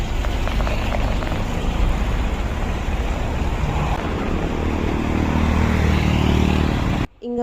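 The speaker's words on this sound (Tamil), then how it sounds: "அந்த லாரி ஃப்ரண்ட் சைடில் நம்ம உட்காரதுனால அந்த இன்ஜின் சவுண்டுக்கு எதுவுமே கேட்கல" Lorry engine heard from the front cab on the road from Bangalore to Coorg, a steady loud rumbling drone with road noise that continues unbroken and then cuts off abruptly near the end.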